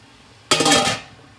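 A metal cover goes back onto a water-bath canner pot with a single bright clanking clatter, close and sharp, ringing briefly before fading out.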